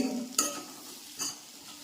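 Jackfruit seeds in masala dry-roast in oil in a pan, a faint steady sizzle broken by three short scraping stirs of a spoon against the pan.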